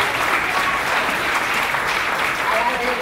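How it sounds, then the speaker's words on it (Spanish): Audience applause at a talk on social policy and children's rights, steady dense clapping from a hall of listeners holding at a constant level throughout. "Un aplauso, ¿cierto?"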